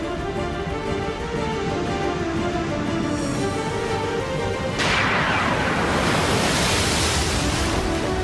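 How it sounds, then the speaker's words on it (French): Constant rushing wind with surf and waves breaking at sea, loud and close, swelling into a heavier crash of water partway through. "Le vent tourne, Bébo."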